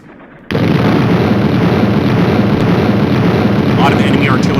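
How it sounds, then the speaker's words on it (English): Enemy artillery fire in the Desert War 1940-1942 video game erupts suddenly after a brief quiet, then rumbles on as a loud, continuous barrage of overlapping blasts and booms. "A lot of enemy artillery fire, by the way."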